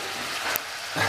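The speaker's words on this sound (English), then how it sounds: "they have started frying the bracciole" A steady, faint sizzle of braciole beef rolls frying in a pan, with a brief sharp tick partway through and a slightly louder hiss near the end.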